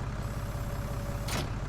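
A tractor engine in Farming Simulator 19 drones steadily at a low idle, close and constant, with a brief airy hiss near the end.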